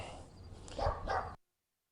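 A dog barks indoors: two close, fairly loud barks that come in quick succession before the sound cuts off abruptly.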